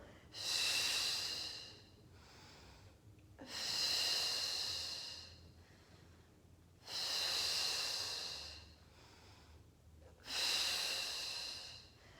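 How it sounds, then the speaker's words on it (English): Slow, deliberate breaths during a Pilates exercise with a ring, four long airy exhales at a steady rhythm with quieter pauses between, close and soft. "Inhale up, exhale down."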